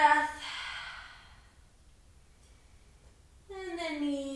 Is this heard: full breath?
yes